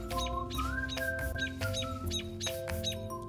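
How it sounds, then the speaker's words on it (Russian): A bird chick squeaks in repeated high, shrill bursts while playing with a spitz dog in a garden, the calls close and fairly loud with short pauses between them. "Вдруг слышу крик птиц."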